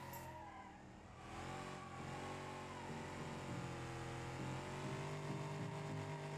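Car drifting in BeamNG.drive: a continuous engine drone that swells and holds, with tire squeal layered over it. The sound is steady and faint throughout.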